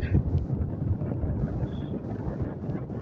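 Steady wind at a hilltop view tower in Chuliban buffets the microphone in a low, continuous roar, with no voices and only slight gusting changes.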